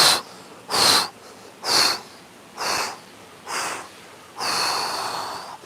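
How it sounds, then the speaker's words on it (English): Six forceful breath exhales during an outdoor garden breathing exercise, each a strong, breathy rush of air separated by short pauses, the last one drawn out longer, close and clear with no talking. "Now a couple of forceful exhales as we slowly go back up."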